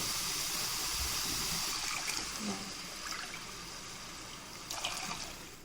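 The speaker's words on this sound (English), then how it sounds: "now time to add required amount of water for upma" Water is poured into a pan for cooking rava upma, making a steady, soft rushing trickle that gradually tapers off, with a few faint clinks near the end.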